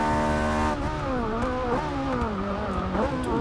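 A Ferrari 458 Italia V8 engine in the Forza Motorsport 6 racing game, loud and continuous, revving high then dropping as it shifts gears and climbing again in wavering pitch, with no talk over it.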